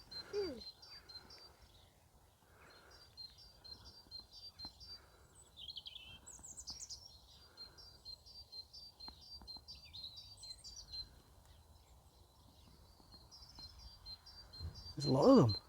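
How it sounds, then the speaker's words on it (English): Birds chirping in trees along an old railway route at Lochore Meadows in Fife, with repeated high, thin calls and twittering at a distance, faint, while people speak quietly now and then. "There's a lot of birdies, but I wonder which one it is that's making that noise."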